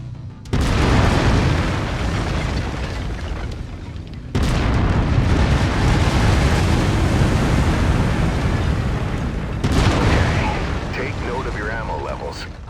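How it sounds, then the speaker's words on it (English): Autocannon fire from a mech in the Mechwarrior 5 Mercenaries video game: three heavy, booming blasts that each roll into a long, loud, sustained rumble, close and dense, with no talk over them. "I've mapped the autocannon to Weapon Group 1. You're free to fire whenever you're ready."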